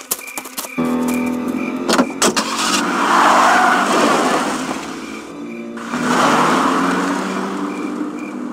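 A car drives in the Full Throttle Remastered video game: a few clicks and knocks, then a loud engine drone that swells, fades briefly and rises again, with no voices.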